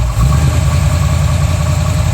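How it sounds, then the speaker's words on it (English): A steady, low V8 engine idle from a 1932 Ford Highboy Roadster hot rod with a Roush engine rumbles continuously at close range, smooth and even with a deep throb and no voices. "Idles really nicely. It always starts. Really runs beautifully."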